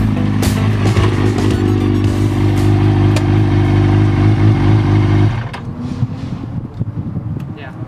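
Steady loud engine drone and wind rush from a 2003 Kawasaki ZX6R motorcycle riding, close and continuous, easing off partway through into rougher noise.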